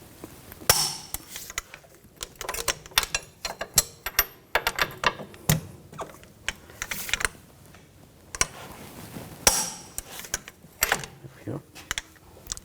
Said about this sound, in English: Now we're going to torque these nuts and bolts to